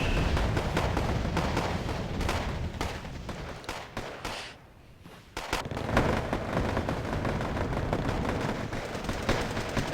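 Dense small arms fire crackles nonstop in a Wargame: AirLand Battle battle, with rifles and machine guns mixed with heavier booms and a brief lull midway before the gunfire returns at full loudness.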